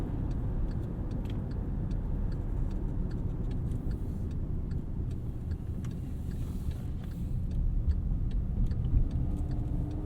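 A 2014 Volkswagen Tiguan S 4Motion accelerates up a highway on-ramp, heard from inside the cabin as a steady low engine and road drone, with faint regular ticking over it and a slight swell in loudness toward the end.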